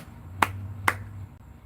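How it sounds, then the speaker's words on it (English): Two sharp hand claps about half a second apart, close and crisp, rising from a quiet room with a low steady hum underneath and no talking. "Clap."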